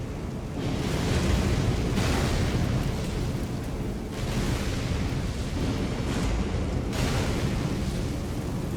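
A Bigmouth enemy in Elden Ring: Shadow of the Erdtree explodes, heard as a loud, sustained roaring blast that surges in several waves, with no voices.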